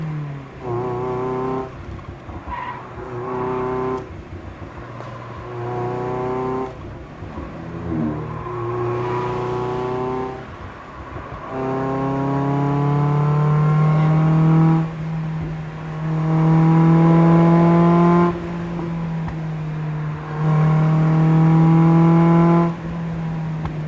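Mazda Miata engine revving hard after a downshift to second gear, rising through the rev range in repeated pulls that climb in pitch and grow louder, close and continuous with no talk.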